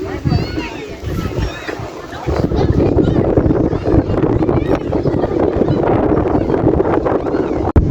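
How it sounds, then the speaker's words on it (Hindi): Strong wind at Al Saif beach in Jeddah roars and buffets the microphone almost without a break, swelling louder after the first couple of seconds. Voices and a child's speech mix in underneath. "ओह कितनी तेज हवा है"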